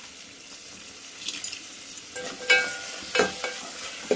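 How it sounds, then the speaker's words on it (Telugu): Tomato, carrot and coriander fry in a pan for vegetable rice, a soft sizzle under sharp stirring scrapes that come in bursts, growing busier and louder in the second half. "నా దగ్గర ఈరోజు ఉన్న ఐటమ్స్ అయితే ఇవి వేసుకొని చక్కగా వేపుకుందాం"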